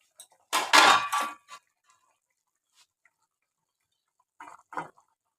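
Fish pieces for a Bengali spicy stingray curry with new potatoes go into a pot, making a loud close splash and clatter, then a couple of softer knocks after a short silence.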